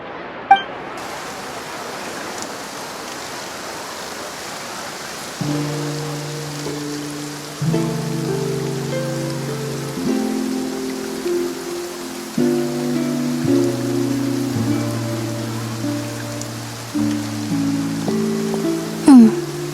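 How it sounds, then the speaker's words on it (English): Steady hiss of rain falling in the video game Genshin Impact, a constant wash across the whole clip, with soft game music tones entering partway and continuing beneath it. "Looks like rain."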